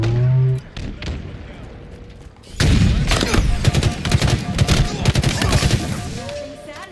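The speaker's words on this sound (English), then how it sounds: "Nothing satisfies like a 3-round burst." Three-round bursts from a rifle in Halo Infinite fire in dense, repeated volleys, with loud sharp cracks that keep coming after an opening stretch of game announcer tones and chatter.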